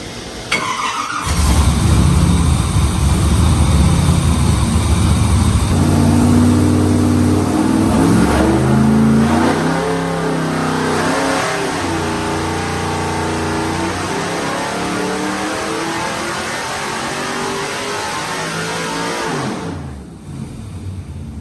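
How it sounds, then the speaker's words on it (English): The engine of a twin turbo 2017 Camaro running on a dyno: it fires up loudly, holds a steady roaring drone, then climbs through rising revs for about twenty seconds before cutting off. "engine running on the dyno"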